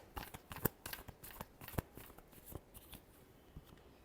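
Tarot cards being shuffled by hand, with quick riffling flicks and sharp slaps in an irregular burst that thins out toward the end, close but quiet.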